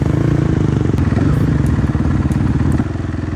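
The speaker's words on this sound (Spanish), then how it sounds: "enciende la moto y sigue con la etapa" A rally motorcycle on a Dakar stage fires up and runs close by, its engine throbbing in a rapid, loud pulsing beat with occasional clattery ticks, dropping slightly in level near the end.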